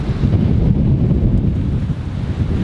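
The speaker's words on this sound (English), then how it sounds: "That is windy as shit." Strong wind buffets the microphone on a cold, snowy day in Queenstown Gardens, a continuous loud low rumble with no voices.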